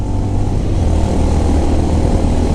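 A Honda CB350RS motorcycle pulling in third gear around 100, its engine a loud, steady drone with rushing wind, heard alone without talk.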